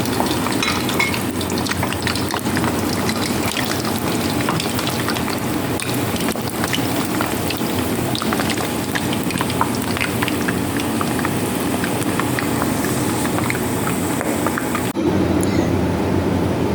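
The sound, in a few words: frying potatoes and carrots in oil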